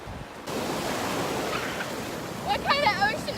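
Cold ocean waves breaking on a beach in July, a loud steady wash of surf that swells near the end, with a voice speaking over it toward the close.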